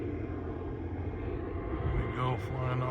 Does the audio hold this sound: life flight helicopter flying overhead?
yes